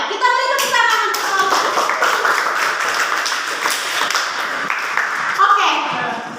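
A group of people clapping hands together after a class presentation, a burst of clapping running several seconds with voices and chatter heard over it.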